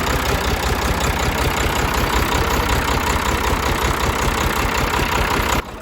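Two tractors straining to pull a heavily loaded trolley stuck in soil, engines roaring loud and close with a steady thrumming, labouring drone that drops off abruptly near the end; no talk.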